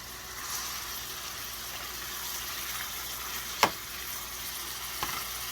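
Bell peppers sizzling in hot oil, a steady close hiss of frying with a couple of light utensil taps, no talking.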